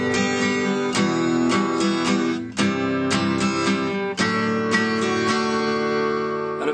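An acoustic guitar strums a steady three-beat waltz pattern in 3/4 time, bright full chords struck in regular groups, close and unaccompanied with no speech.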